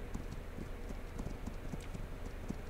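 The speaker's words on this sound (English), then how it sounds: "Are there two of you on one horse?" Horse hooves clip-clop in a steady, quick rhythm in a settler-defense video game, moderately close and even in loudness, with no voices over it.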